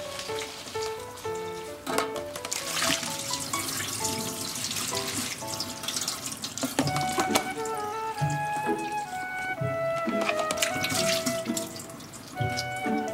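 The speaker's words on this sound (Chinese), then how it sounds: "去好虾线的虾，我们再次清洗一遍" Tap water runs steadily over deveined fresh shrimp being rinsed in a sink, with a continuous splashing patter and scattered clinks from the shrimp and bowl.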